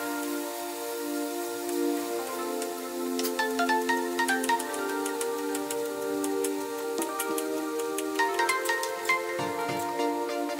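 A phone ringtone plays a repeating melodic chime of bright, sustained tones for about ten seconds in a home kitchen where lasagna soup is being cooked in an Instant Pot, steady and fairly loud with no talking.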